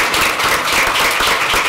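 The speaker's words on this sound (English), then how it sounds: "Let's give him a round of applause." An audience at a public education event in Tupelo applauds a state representative with dense, steady clapping close by, lasting the whole short stretch.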